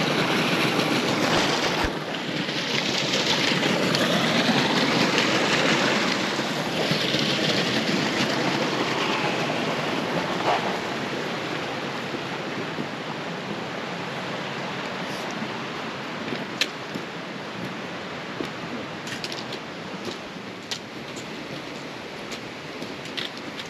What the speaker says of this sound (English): Okay, we're crossing the creek again.